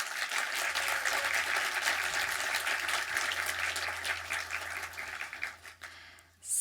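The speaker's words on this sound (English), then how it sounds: "let's please give those tremendous folks a round of applause" An auditorium audience claps in a continuous, fairly quiet wash of applause over a low hum, thinning out near the end as a few final claps trail off.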